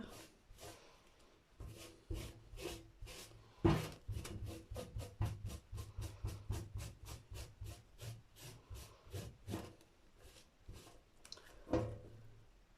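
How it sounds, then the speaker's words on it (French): A small brush scrubs a paint-covered stencil clean in quick rhythmic strokes, with short bursts of rubbing that repeat steadily and up close, fairly quiet, with no voices. "Hop, donc je nettoie le pochoir."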